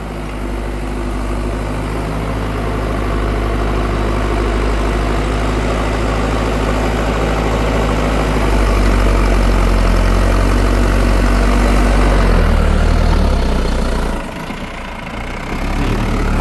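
Massey Ferguson 5710 tractor, 102 horsepower, running steadily while carrying a heavy load of soil; a loud, deep, continuous engine rumble that swells slightly in the middle and dips briefly near the end.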